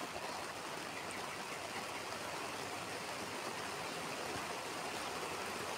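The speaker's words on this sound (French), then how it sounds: "ça se met à bien pleuvoir" Rain pours down in a steady, even hiss, faint and unbroken throughout, with no voices.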